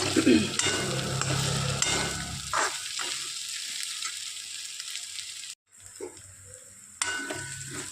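Pigeon peas fry in oil for chutney with a steady hiss and crackle, broken by a few stirring scrapes and a brief cut to silence partway through. Close and moderately loud, with no talking.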